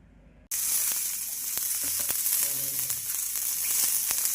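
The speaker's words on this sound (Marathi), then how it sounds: "इथे घेतलेला आहे मी मीडियम साईजचा कांदा भाजून तर हे आपण आता छानपैकी भाजून घेऊया" A medium-sized onion roasting in a pan, a sudden loud sizzle that starts after a short quiet lead-in and then holds steady with light clicks of stirring, close with no talk.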